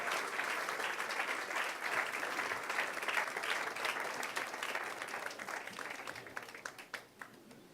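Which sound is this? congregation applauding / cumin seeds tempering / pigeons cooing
congregation applauding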